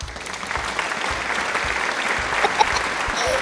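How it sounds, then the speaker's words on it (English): A group of children cheers and claps in a sustained burst of applause, steady and fairly close, with a few voices rising above the clapping. "let's give a big cheer for Carly and Onyx."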